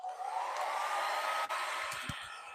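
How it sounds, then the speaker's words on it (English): A hair dryer runs on its low, cold setting to dry latex acrylic paint, giving a steady close whoosh with a rising whine, a brief dip partway through and a few faint knocks near the end. "I'm going to hit this with the hair dryer with my cold setting."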